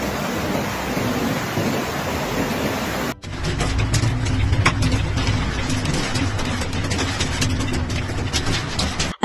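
Vehicles creeping slowly along icy, snow-covered roads in Saudi Arabia after a hailstorm and snowstorm, a steady low engine rumble with rushing wind and road noise, loud and continuous with a brief break partway through.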